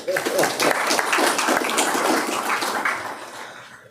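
An audience at a state transportation commission meeting gives a burst of applause, dense clapping that swells and then fades out over a few seconds.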